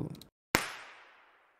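A single sharp burst, like a clap or starter shot, followed by a long, slowly fading reverberant tail in an open forest.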